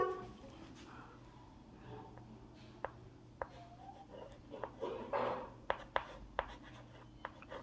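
Pen or chalk writing out a primary-school math answer: faint scratching strokes with several sharp taps, intermittent and close, over a quiet room with low background noise.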